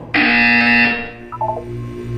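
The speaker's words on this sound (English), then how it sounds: "You will hear a buzzer. When you hear the buzzer, look down at the floor." A loud electronic buzzer blares in the Portal 2 video game, a sustained harsh tone that cuts off after about a second and leaves a quieter hum with brief electronic blips.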